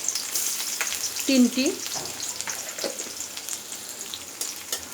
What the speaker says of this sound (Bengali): কড়াইয়ের মধ্যে তেল দিয়ে এখন দিয়ে দিচ্ছি পেঁয়াজ কুচি